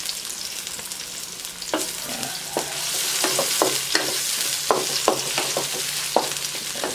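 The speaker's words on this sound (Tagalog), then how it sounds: "Isabay na natin sa paggisa yung sili." Chili peppers sauté in a pan for a spicy native chicken adobo, a steady close sizzle with a burst of scraping stirs and spatula knocks partway through, rising slightly louder toward the end.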